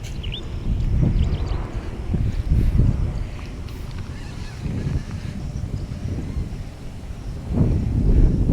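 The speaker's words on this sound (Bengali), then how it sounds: "বাতাস বইতেছে, দেখতে পারতেছেন পাতাগুলা কি পরিমাণ বাতাস বইতেছে, দেখতে পারতেছেন।" Strong wind gusts through leafy trees in an open, quiet natural spot, producing deep, uneven rumbling bursts of wind against the microphone that swell and fade throughout.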